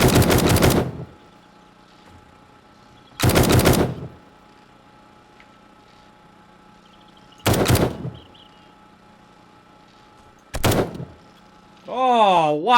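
Sniper gunfire in the video game 7 Days to Die: four loud, close, sharp shots spaced a few seconds apart, each with a brief ringing tail, over a quiet background hum, followed by a warbling tone at the end.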